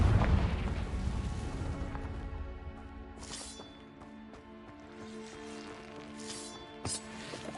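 Casting the Confringo explosion spell in a Harry Potter video game sets off a deep boom that fades into a low rumble, followed later by a few fainter pops and bursts under quiet game music.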